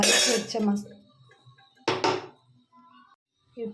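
Spoon clanks and scrapes in a pot while cauliflower, potato and moong dal are mixed for kurma, two or three sharp metallic bursts with quiet gaps between.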